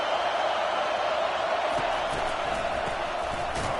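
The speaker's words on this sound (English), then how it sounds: "The roar of the crowd trying to fuel this defense to keep them pinned in their own end." A stadium crowd in a college football video game roars in a steady, dense wash of cheering that fills the whole stretch, with a few faint thumps underneath.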